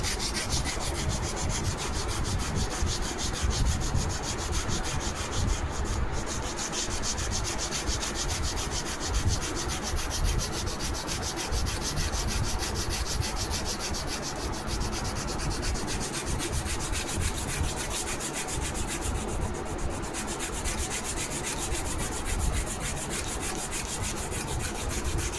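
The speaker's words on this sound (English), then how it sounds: "Hold your wing on the edge of the bottom and keep your sanding block at an angle" A sanding block rubs back and forth over a balsa wood model wing, a steady dry scratching with fast regular strokes that stays close and continuous, with no voices.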